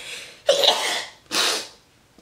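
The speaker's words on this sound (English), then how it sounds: "Sorry, I had to sneeze." A single close sneeze bursts out, followed by a loud sharp exhale or sniff a moment later.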